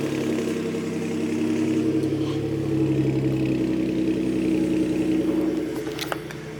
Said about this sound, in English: I'm gonna give you guys a little cold start